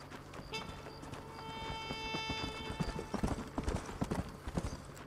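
Horse hooves clop in quick, uneven beats in Red Dead Redemption, close and prominent, with a sustained tonal musical note running through the middle and a possible brief whinny.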